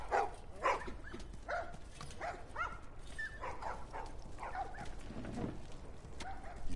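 Several dogs bark and yip in a scene from the video game The Last of Us Part 1, short excited barks and whimpers repeating irregularly at moderate distance over a low ambient background.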